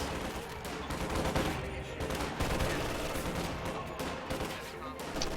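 Rifle fire from riflemen in a WWII strategy game, with dense, overlapping volleys and sharp cracks rattling continuously at moderate loudness, with a voice speaking over the battle.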